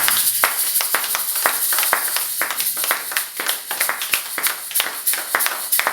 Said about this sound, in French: On acclame pour la parole.